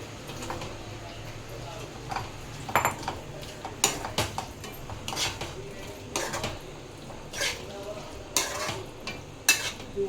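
Fried paneer is stirred into butter masala in a pan: irregular scraping and clinking of a spatula against metal over a soft sizzle, with someone talking at times.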